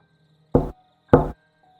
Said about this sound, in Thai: เสียงประตูก็ดังสวนขึ้นฉับพลัน